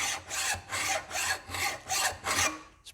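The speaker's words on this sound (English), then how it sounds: "Now just crisping that edge up perfectly, get it nice and straight and square. Getting rid of any burrs." A hand file rasps back and forth along a sheet metal edge clamped for a vise-mounted press brake build, about seven even, close strokes in quick rhythm with no talking.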